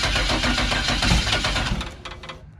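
A turbocharged LS engine in a Foxbody running up close, a loud, rough, choppy idle with a dense rumble that fades slightly at the end.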